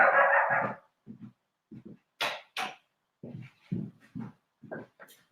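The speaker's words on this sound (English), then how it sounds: "I have to get my dog to stop barking" A pet dog barking in a series of sharp, close barks and yips, irregularly spaced with short gaps between bursts, loud and with no one talking over it.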